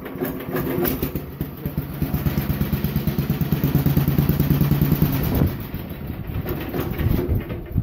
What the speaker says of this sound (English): It might just start up with the starter generator since it's warmed up.